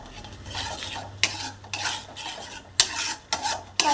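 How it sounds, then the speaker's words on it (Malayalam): A banana leaf halva mixture is stirred in a pan, with repeated scraping strokes and sharp clinks of the spoon against the metal, close and steady, and no voices. "ഇനി നന്നായിട്ട് ഇളക്കണം"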